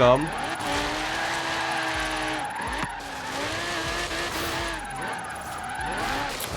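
An Audi R8 drifting in the video game Forza Horizon 3, with long wavering tire squeals rising and falling over a revving engine, several slides in succession, close and loud with someone talking over it.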